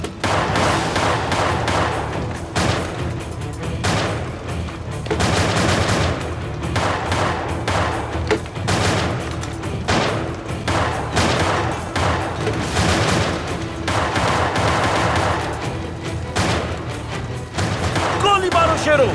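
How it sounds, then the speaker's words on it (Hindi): Bursts of rapid gunfire fired into the air crack out again and again, loud and close, with voices shouting between and under the volleys. "सिर्फ हवा में गोलियां चलाओ।"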